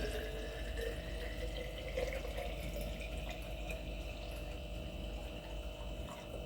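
Hot lemon, honey and ginger tea poured into a flask, giving a soft, continuous trickle and gurgle of liquid that runs steadily, fairly quiet and close, with no talking over it.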